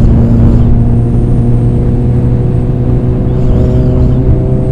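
A Kawasaki ZX14R with Woolich Racing tuning drones loudly and steadily at high revs on a long top-end run, its engine note held constant under rushing wind for the whole stretch.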